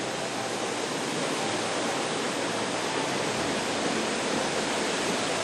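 A waterfall in Manyueyuan National Forest Recreation Area, Dabao River valley, gives a steady, dense roar of falling water that stays loud and unchanging throughout, with no other sounds above it.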